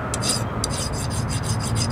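A hand file rasps rust off a 2006 Corolla front brake part in quick back-and-forth diagonal strokes, about eight close, rhythmic scrapes with nobody talking.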